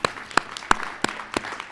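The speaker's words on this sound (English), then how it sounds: "let's give yourselves a round of applause" A handful of sharp, evenly spaced claps ring out from an audience at a Saturday morning speech, about five distinct hits in a steady rhythm rather than a full ovation.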